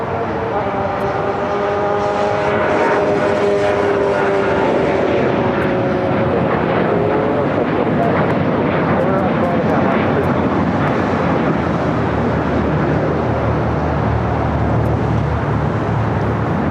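An Air Canada Express airliner operated by Jazz Aviation takes off from LAX, its engine roar building and holding loud and steady, with a tonal whine that drifts and fades as the plane climbs away.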